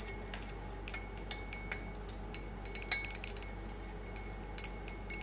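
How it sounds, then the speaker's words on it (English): A glass rod stirs a solution with black powder in a beaker while making a salt in a school chemistry practical, producing faint, irregular glassy clinks and taps, some in quick clusters, with no talking. "we stir with a glass rod"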